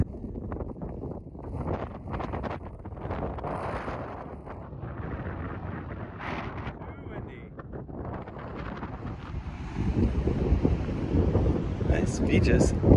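Strong coastal wind, too strong for paragliding, buffets the microphone in gusty, rumbling bursts, growing heavier and louder toward the end.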